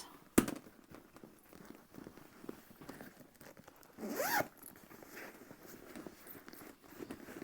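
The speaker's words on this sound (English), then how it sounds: "Zip your bag shut." A zipper is run shut on a handmade sewn bag, one quick rasping pull standing out clearly from a quiet room, with a sharp tap just before it.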